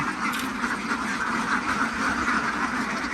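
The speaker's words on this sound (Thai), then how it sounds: "อันนี้คือเป็ดที่เรามาส่งนะครับ" A dense, continuous chorus of many ducks quacking at once, loud and close, with no pauses throughout.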